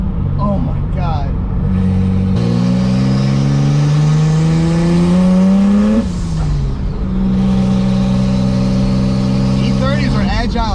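A turbocharged BMW E30 with an M20B25 engine accelerates hard while driving, a loud rising engine note climbing through a gear, dropping at a shift, then pulling again, with a person talking over it.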